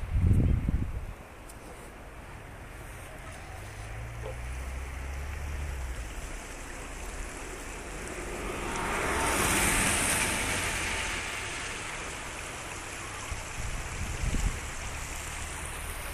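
The Turia river flows beneath a village bridge with a soft, steady rushing hiss. The sound is faint and outdoors, with a brief thump at the start and a gentle swell in the middle.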